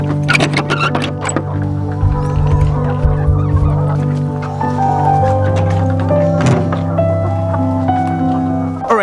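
Chickens inside a chicken house on a farm make a loud, dense chorus of clucks and squawks close by, continuing throughout with some clattering noises.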